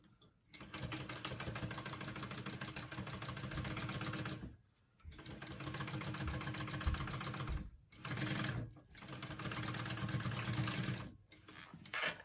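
A sewing machine bastes down a zipper flap in rapid, steady runs of stitching, stopping briefly three times before starting again, close and clear.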